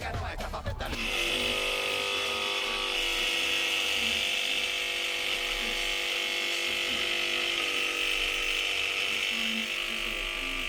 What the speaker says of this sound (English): Last new addition to the shop is this paint shaker, super cheap.